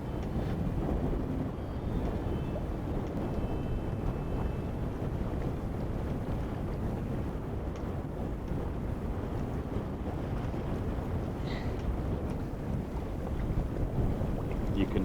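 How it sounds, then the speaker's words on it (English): Waves break on the far side of a coastal sand bar as a steady, dense rumbling wash, heard from a distance through constant wind buffeting on the microphone, with no clear individual breakers standing out. "You can hear the waves breaking on the other side of the bar."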